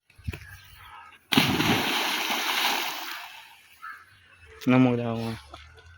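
A person jumps into a village pond to bathe, landing with one loud, sustained splash and sloshing water close by, while voices talk and laugh before and after.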